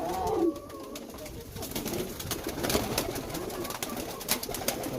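A young pigeon coos steadily at close range while being handled for a pigeon pox vaccination, with light rustling in the background.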